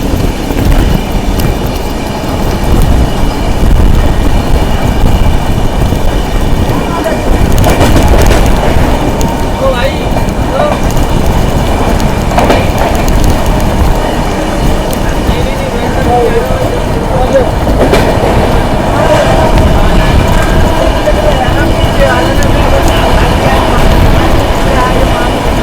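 Ajmer-Sealdah SF Express on a long non-stop run toward Kanpur Central, heard from inside the coach as a loud, continuous rumble and rattle of wheels on track, with occasional clacks and squeals over the steady roar.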